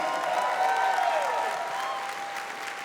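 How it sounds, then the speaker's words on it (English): Audience applause at a convention closing ceremony, a sustained wash of clapping that fades slightly toward the end, with a faint tonal whine or feedback running underneath. "So big round of applause for Sean Shiplock and for Kara."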